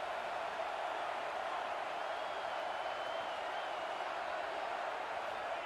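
An early-game stadium crowd in a college football video game gives a steady, distant-sounding roar that holds at an even level throughout.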